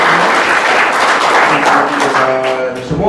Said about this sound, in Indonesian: Berikan tepuk tangan yang meriah buat Yesus.